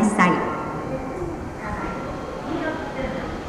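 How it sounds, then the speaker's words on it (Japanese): A Tokaido Shinkansen train passes through Atami station at platform level, a steady rushing rumble heard under a platform announcement voice that fades slightly over a few seconds. "まもなく6番線を電車が通過します。"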